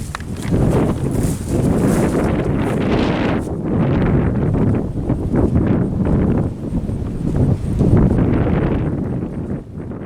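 Loud wind gusts roar across the microphone in sustained, rushing bursts, dipping briefly and then surging again, with no voices.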